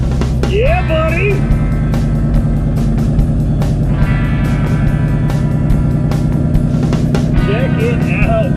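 A monster truck creeps forward under light throttle, its deep engine rumble steady and close throughout, with people talking over it.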